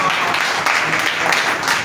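Congregation clapping at a Christian church sermon, a steady wash of many hands filling the space without pause.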